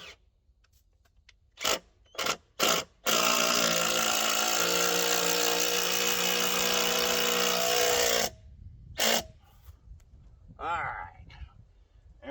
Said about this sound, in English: I'm going to go ahead and put these lag bolts in there with the impact driver